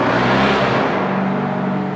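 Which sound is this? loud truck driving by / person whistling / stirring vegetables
loud truck driving by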